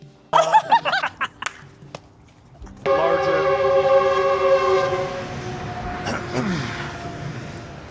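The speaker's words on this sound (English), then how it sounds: "Damn train." Brief laughter and voices give way to a loud, sustained train horn and the rumbling roar of a train passing close by.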